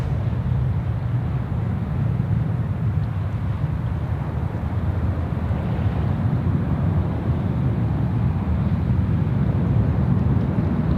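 Aircraft jet engines spooling up at Sydney Airport, a steady broadband roar with deep low rumble, loud and sustained throughout, no voices.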